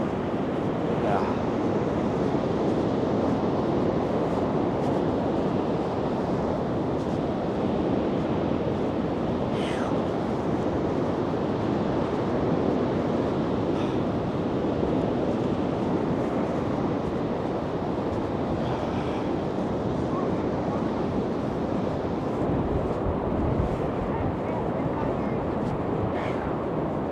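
Wind on a beach in Astoria, Oregon, a loud, constant rushing roar buffeting the microphone, with faint waves mixed in under steady broadband noise.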